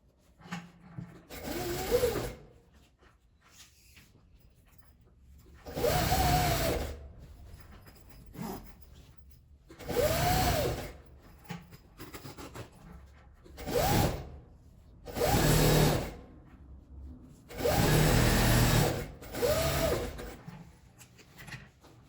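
A sewing machine stitches the fabric lining of a zipper pouch in repeated bursts of rapid whirring, each a few seconds long, separated by quiet pauses.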